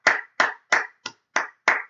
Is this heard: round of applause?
yes